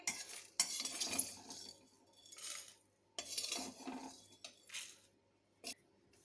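Roasted whole spices, dry-toasted for a minute in a kadai, are scraped and scooped out into a small bowl: a series of close metallic scrapes and clinks in uneven bursts with short pauses, no talking.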